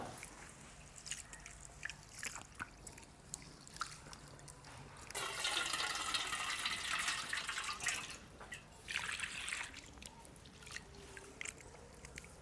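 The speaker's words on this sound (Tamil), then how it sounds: "நாங்கள் பருப்பையும் ஒரு 4 தண்ணியில் கழுவி எடுப்போம்" Lentils being washed by hand in water in a home kitchen: trickling, dripping and splashing water with a louder rush of pouring water in the middle, then softer sloshing and drips.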